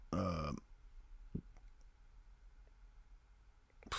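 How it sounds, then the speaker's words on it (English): One loud, close burp opens the stretch, followed by quiet room noise, a brief faint click and a sharp sound at the end. "I see I just burped"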